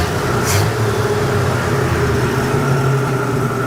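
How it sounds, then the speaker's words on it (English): 1967 Ford F-100 pickup, long stored, running with no muffler on a Y-pipe: a loud, steady raw exhaust drone with a rough low throb, heard close and alone. "it sounds pretty good when you rev it up"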